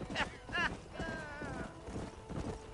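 Horse hooves clip-clop in a quick, uneven rhythm in the video game Red Dead Redemption, close and moderately loud, with a brief tonal sound drifting over the hoofbeats partway through.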